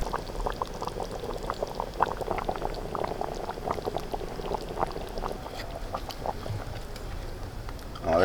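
Homemade rooster curry simmering in a clay pot over a coal stove, a continuous close bubbling and popping of thick liquid throughout, alone without speech.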